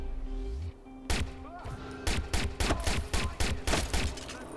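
Gunfire in the Watch Dogs video game: a loud burst of repeated sharp shots with thumping impacts, close and rhythmic, following a brief engine-like hum.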